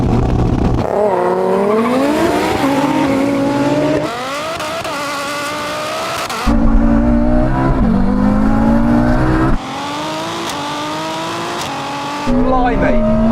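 A Ferrari SF90, a 1,000hp Golf R and a BMW M240i launch off the line in a drag race. Engines roar loudly with rising revs and distinct gear-change breaks, continuous and close.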